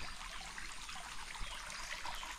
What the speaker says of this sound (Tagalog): Malakas na ang tubig.